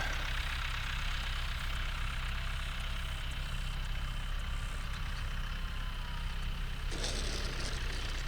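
A Mini Apprentice RC model airplane's electric motor at idle during a landing approach on grass, a steady faint whine over constant low rumble and wind noise, with a brief shift near the end.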